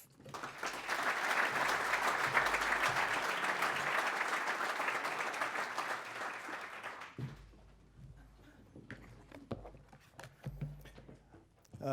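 Audience applause welcoming a speaker to the stage at a City Club of Cleveland forum, a dense, sustained roar of clapping for about seven seconds that then drops away to a few scattered claps and room noise.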